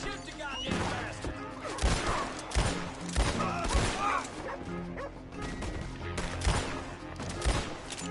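Bursts of gunfire crackle through a chaotic Red Dead Redemption 2 fight, loud and repeated with a dog barking, crashes and shouting voices mixed in.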